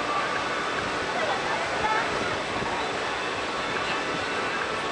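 Rushing, churning water from river rapids on an amusement park river ride at Parc Astérix, a steady broadband roar filling the whole clip without letup, close and fairly loud, with no clear voices over it.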